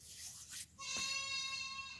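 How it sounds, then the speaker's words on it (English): A goat bleats once, a loud, close, wavering call that holds for over a second after a brief noisy rustle, with no talking. "now I have a goat that's gonna be as bad as my rooster"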